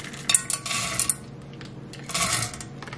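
Semi-sweet chocolate chips poured into a pot in two bursts, a bright rattling patter of hard pieces striking metal, close and loud, with a short quiet gap between pours.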